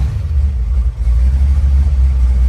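A supercharged big-block V8 in a 1955 Chevy running steadily, a loud, deep, continuous low rumble heard close up, with no talk.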